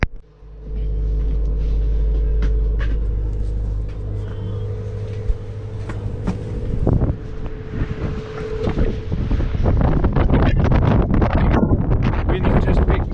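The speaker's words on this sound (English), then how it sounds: "Wind's just picked up" Strong wind roars and buffets the microphone on a lobster fishing boat before a storm, with a low engine rumble underneath and clattering deck noises building toward the end.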